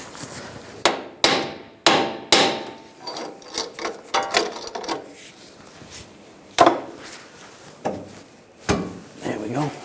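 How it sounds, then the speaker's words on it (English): Sharp metallic hammer taps on a ball joint, knocking it from the steering knuckle of a 2013-2016 Dodge Dart, strike in irregular bursts, close by, with scraping and clinking of tools between blows. "You may have to tap it with a hammer."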